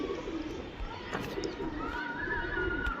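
Small pigeons coo softly in a continuous low murmur, with a few higher calls overlapping near the end, all under a steady background hum.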